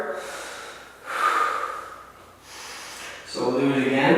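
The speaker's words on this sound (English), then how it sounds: "I want to be breathing hard." A person breathes hard after straining in yoga arm balances such as crow and crane, with loud, close exhalations and sharp inhalations in uneven bursts.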